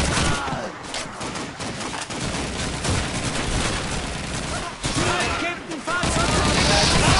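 MP44 (StG44) rifle fire in Call of Duty 2 rattles off in loud repeated bursts during a battle for a hill, with other combat noise and a voice talking over it.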